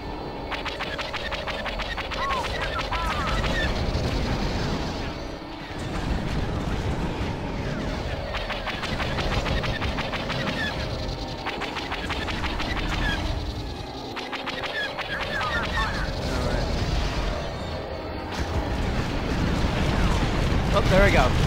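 Continuous battle noise from Star Wars Battlefront II (2005), with torpedo and laser fire rumbling into deep explosive booms over a dense, steady roar that swells and dips throughout.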